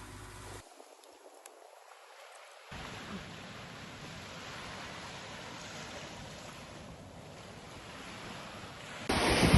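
Calm morning sea washing onto Mamangal White Sand Beach in Catanduanes, a soft continuous surf wash mixed with some wind noise that starts a few seconds in and swells slightly at the end, with no voices.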